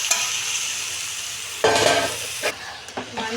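Chicken pieces frying in a pan with tomatoes and ginger garlic paste, a bright continuous sizzle with bursts of stirring and scraping that briefly swell louder.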